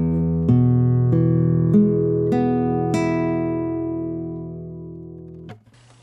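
Acoustic guitar processed through compression and EQ, a series of strummed chords about every half second ringing out and slowly decaying, low strings sounding heavier than the high ones, close and clear with no talking.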